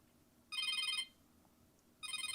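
Motorola Moto Tag tracker sounding its ringing alert, two short bursts of bright electronic chimes separated by a pause, close and clear over a quiet room with no talking.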